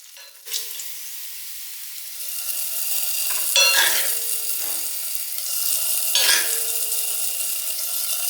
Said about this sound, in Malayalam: ഇനി വെളിച്ചെണ്ണയിൽ ചെറിയ ഉള്ളി നമുക്ക് നേരത്തെ അരിഞ്ഞു വെച്ചത് അത് വഴറ്റി ചേർക്കേ വേണ്ടു.